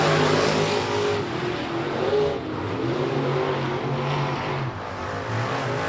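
Race cars circling the track at I-37 Speedway: loud engine drone close by, revving and easing through the turns in uneven surges with no speech.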